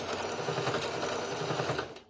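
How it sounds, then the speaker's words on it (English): A sewing machine runs a quick reverse stitch on a men's shirt, a rapid, steady mechanical rattle of needle strokes lasting about two seconds, close and alone before it stops. "just do a quick little reverse stitch"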